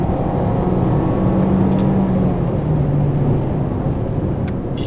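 A Mazda Roadster 990S engine pulls hard during a 0–100 km/h acceleration run, a continuous strained drone with a steady pitch heard from inside the car.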